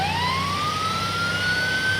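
Emergency vehicle siren in FiveM, a steady rising wail that sweeps upward and holds over a low engine rumble, loud and continuous throughout.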